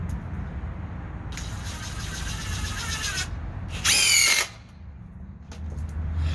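DeWalt DCF887 impact driver driving a fastener into wood, a loud sustained whine for about two seconds, then a harsher, louder rattling burst of hammering impacts, with steady background rumble throughout.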